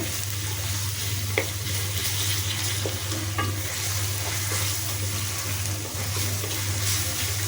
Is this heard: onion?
yes